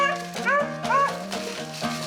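Hunting dogs bay and yelp on a swamp rabbit hunt. Several high, wavering bawls come in quick succession at close range, with a rhythmic, excited quality and no voices over them.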